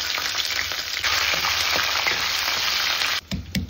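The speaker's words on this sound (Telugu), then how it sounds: "నెక్స్ట్ పచ్చిమిర్చి వేసుకోండి." Green chillies hit hot oil with a loud, dense crackling sizzle that runs steadily, then cuts out abruptly near the end.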